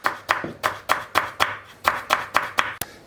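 A knife chops red and green peppers steadily on a cutting board, about a dozen crisp rhythmic strikes with short pauses between, close and clear.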